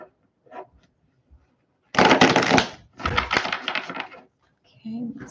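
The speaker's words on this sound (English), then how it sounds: "Let me give it one more shuffle." A deck of tarot cards being shuffled by hand: two quick riffling bursts of crisp, fluttering clicks, close up, with a few faint taps before and after.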